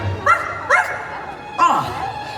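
A dog gives three short, yippy bow-wow barks in a Halloween party show setting, spaced out across a couple of seconds, each with a bright, whiny tone.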